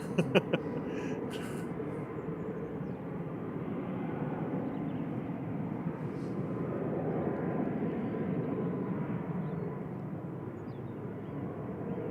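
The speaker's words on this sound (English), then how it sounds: "Ryanair to Palma de Mallorca on the roll" A Ryanair jet bound for Palma de Mallorca roars steadily on its takeoff roll at Manchester Airport, a broad sustained engine rumble heard from a distance that swells slightly midway and holds throughout.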